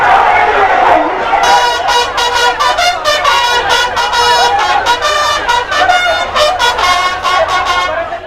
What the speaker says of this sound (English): an equally noisy crowd kept a lively atmosphere